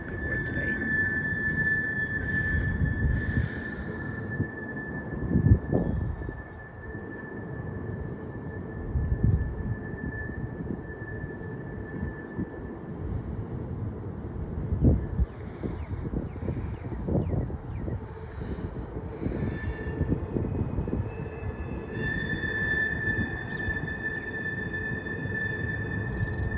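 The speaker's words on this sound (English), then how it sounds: "That's gonna be the end of the train" An eastbound CSX mixed freight train rolls past on the main line track, a steady heavy rumble of wagons with a thin, sustained wheel squeal and scattered clanks and knocks, close by and continuous throughout.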